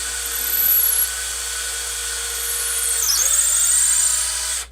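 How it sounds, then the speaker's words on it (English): A power drill bores into white 3D-printed PETG plastic, a steady close whine that slows and drops in pitch midway as the bit bogs in the softening plastic, then runs on until it stops abruptly. "That was because the plastic got a little melty and I stopped drilling."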